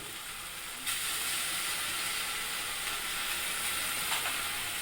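Spices and herbs, including chili powder, coriander leaves and mint, sizzle in hot oil for Hyderabadi biryani. A steady, close hiss of frying starts a moment in and then holds evenly throughout, with no talking.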